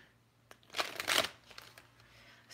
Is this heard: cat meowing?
no